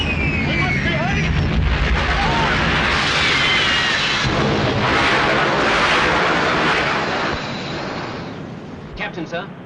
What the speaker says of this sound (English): Our firing's getting ready, Woody.